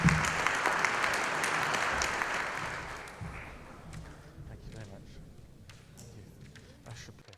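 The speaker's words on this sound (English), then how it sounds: "With a round of applause, please" Audience applause welcoming a keynote speaker at a conference on global innovation, loud and dense at first, then thinning and fading gradually over several seconds.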